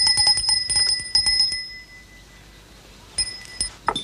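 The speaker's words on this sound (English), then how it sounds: "Harry, could you see why they aren't answering the bell?" Small handbell rung to summon household servants in a period manor setting, a bright rapid jingling burst repeated several times, then a pause and a shorter second burst of ringing.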